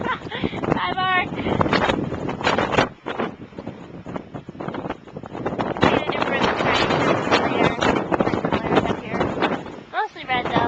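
Strong wind roars and buffets the microphone continuously at a scenic viewpoint in Capitol Reef National Park while people talk close by, their voices partly drowned by the gusts.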